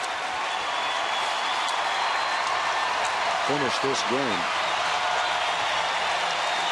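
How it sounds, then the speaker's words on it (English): A baseball crowd at a Rangers home game stands and applauds in steady, sustained clapping and cheering throughout, while a commentator talks over it. "standing and applauding in support of Joe Nathan and the Rangers"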